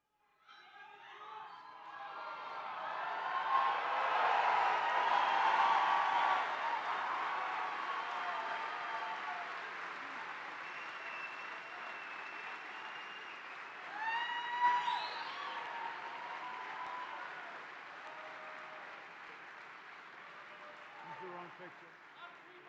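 A large crowd at a Donald Trump political rally in Wisconsin cheers and applauds in a sustained roar that swells, then slowly fades, with a brief burst of whistles and shouts partway through.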